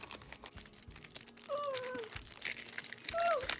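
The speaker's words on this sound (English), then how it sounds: "I'm trying to open it without tearing up the envelope" A paper envelope being carefully opened, with soft crinkling and a few tearing rustles that come and go, while a voice squeaks brief playful sounds in the background.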